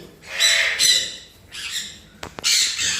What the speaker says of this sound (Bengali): সেনেগাল প্যারট, সেনেগাল প্যারটের একটা পাখি আছে